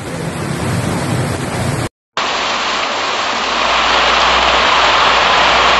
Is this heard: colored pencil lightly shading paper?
no